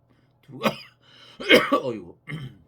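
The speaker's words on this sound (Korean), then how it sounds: "꼭 요 자리만 앉으면 기침이 팍팍 나서 기침을 안 날라고 약을 먹었는데도" Several harsh coughs from a man seated while preaching a Bible lecture, coming in three loud close bursts with short pauses between them, with no words spoken.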